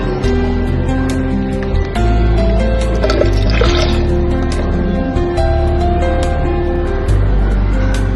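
Water is poured into a pan while carrot kheer is cooked at home, a loud, close, continuous gurgling splash, with tonal hum and clinks alongside.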